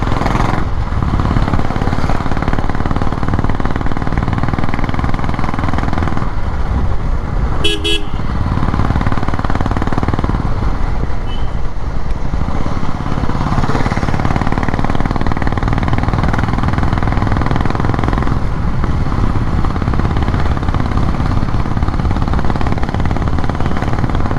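A Royal Enfield Classic 350 BS6 motorcycle runs with a loud, steady exhaust drone close to the microphone, a brief horn toot breaking in partway through.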